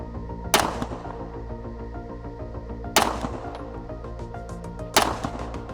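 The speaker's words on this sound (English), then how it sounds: "I'm gonna shoot 3 more right here just to confirm." Three pistol shots fired at a target at close range, each a loud sharp crack spaced about two seconds apart, with a ringing tail after each.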